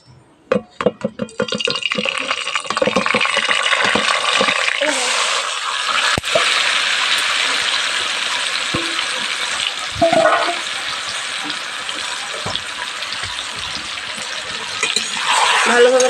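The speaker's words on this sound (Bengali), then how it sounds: "পেঁয়াজ বেরেস্তার তেলে কিন্তু আমি বন্ধুরা ম্যারিনেট করা মাংসটা ঢেলে দেবো" Marinated beef poured into hot oil left from frying onions, bursting into a loud, steady sizzle that holds for many seconds after a few clattering knocks at the start, with brief scraping along the way.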